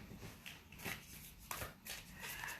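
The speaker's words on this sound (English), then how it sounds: "We're going to shuffle again." Tarot cards being shuffled by hand in a quiet room, with soft papery riffles and slides coming in several short bursts and no talking.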